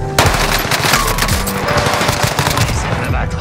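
Rapid automatic gunfire in Call of Duty: Warzone, loud and continuous throughout with dense repeated shots and occasional sharper cracks, with voices faintly mixed in.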